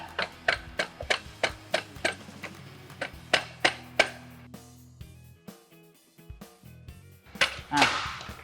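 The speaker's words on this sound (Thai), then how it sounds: "ใช้ค้อนพลาสติกนะครับ เคาะไปที่บริเวณ สเตอร์หน้านะครับ" A plastic hammer taps the front sprocket area of a motorcycle during gearbox disassembly, giving a steady run of about a dozen sharp, close knocks before the strikes thin out into a low hum, with a brief louder rattle near the end.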